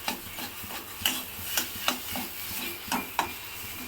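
Fish cutlet filling fries in a kadai with a low, steady sizzle, punctuated by several sharp scrapes and knocks of a stirring spoon against the pan.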